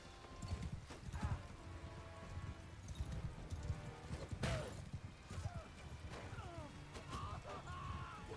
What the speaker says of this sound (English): Oh, he died to the horse charge.